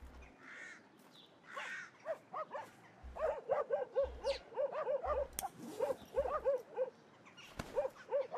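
A dog in a drug dealer simulation video game barks and yips in rapid repeated bursts, sharp and fairly close, with short whimpering calls between volleys and occasional low thumps.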